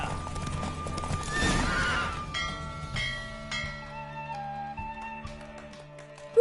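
A horse in the game The Witcher 3 gives a loud whinny, followed by rhythmic galloping hoofbeats clip-clopping steadily, with game music and effects layered underneath.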